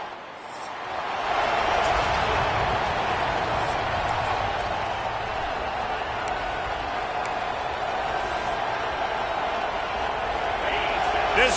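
Stadium crowd roar in the College Football 26 video game, a constant dense wash of cheering that runs throughout, with a commentator talking over it.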